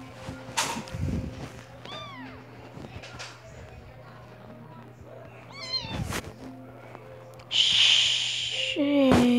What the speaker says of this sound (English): Aww, it's a little kitty.